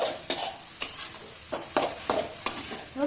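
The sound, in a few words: stirring eggplant mash with spices in a pan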